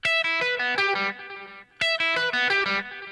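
An electric guitar rings out loud, bright open strings through distortion and chorus effects in a blues-rock style. Two phrases of quick picked notes sustain and ring, with a short pause between them.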